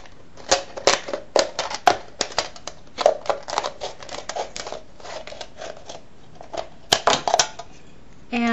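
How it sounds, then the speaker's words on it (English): Scissors cut around the rim of an aluminum can in rapid bursts of crisp metallic snips and crunches, close and loud, with short pauses between runs. "cut the rim with the scissors, cut to the first ridge of the rim"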